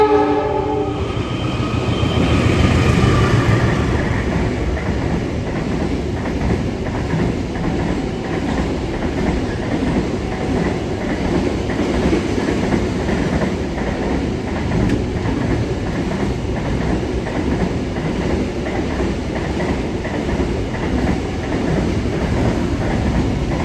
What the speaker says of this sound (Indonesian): Jalan langsung kereta kita mas.